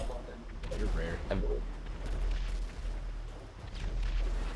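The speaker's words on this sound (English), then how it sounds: "This fucking explosion." Explosions and gunfire burst through a GTA V Online vehicle deathmatch on PS3 in a forest-fire map, with loud booming blasts and rumbling over steady game noise while players talk.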